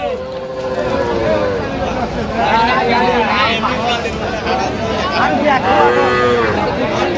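Repeated loud moos from a cow and calf close by at a cattle market in Aftabganj, low calls overlapping with higher ones amid a busy crowd of people talking.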